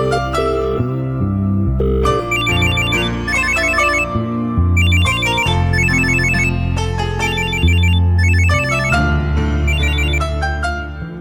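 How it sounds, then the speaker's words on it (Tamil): A melodic phone ringtone plays loudly in a Tamil TV serial, a repeating tune of bright chiming notes over a bass line, running steadily for the whole stretch with no voices. "எந்த நேரத்துல யார் ஃபோன் பண்றது?"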